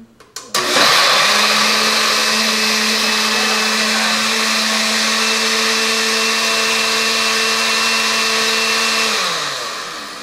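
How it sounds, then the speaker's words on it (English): A countertop blender whirs at full speed on a blueberry protein shake, starting after a couple of clicks, holding a steady loud motor whine, then winding down near the end. "Normally I start the blender before I put the blueberries in"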